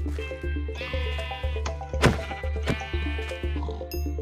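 Sheep in a video game give repeated wavering bleats, loud and close, about two per second in a steady rhythm, with a sharp thwack midway and no voices.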